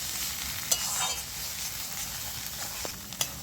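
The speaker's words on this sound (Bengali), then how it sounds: "ভালো করে নেড়ে চেড়ে নিয়েছি" Coriander leaf pickle with a little vinegar fries in oil in a pan, a steady close sizzle broken by a few light scrapes and taps as it is stirred, with no voices.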